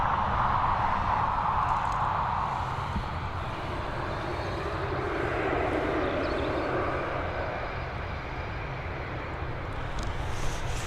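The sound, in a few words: airplane landing at Dublin Airport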